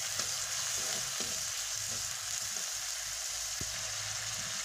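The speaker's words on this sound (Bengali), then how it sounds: "হলুদ, লবণ, ধনিয়া গুঁড়ো, আদা রসুন বাটা, সম্পূর্ণ মশলা দিয়ে ভালো মতন মশলাটা কষাবো একদম কড়া করে" A spice paste of turmeric, salt, coriander powder, ginger and garlic sautés hard in oil, a loud steady sizzle with occasional stirring scrapes, close up and free of speech.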